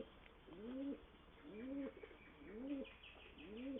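Racing pigeons in a loft coo in a steady rhythm, four soft rolling coos evenly spaced and close by, with faint background hiss and no talking.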